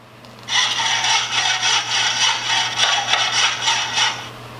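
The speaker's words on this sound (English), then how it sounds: "And the saw." Saw cutting at a construction site, played from a children's sound book: a continuous rasping back-and-forth stroke rhythm lasting about four seconds, moderately loud and alone.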